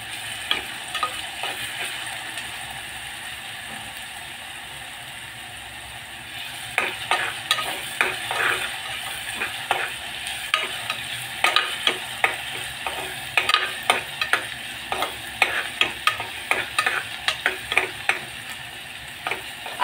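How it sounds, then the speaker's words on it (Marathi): Onion and crushed garlic sizzle steadily in a hot pan, with quiet frying first and then repeated sharp scrapes and taps of a spatula stirring, close and clear, with no talking. "कांदा आणि लसूण छानसा भाजून घेणार आहे आपण."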